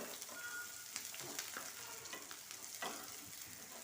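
Chopped onion with green chilli frying in a pan for egg fried rice, a quiet steady sizzle with a few light stirring clicks, no talk.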